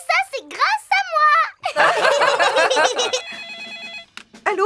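Telephone in a Peppa Pig cartoon, a bright electronic ring with repeated warbling pulses that follows lively cartoon character voices and a giggle, close and clear.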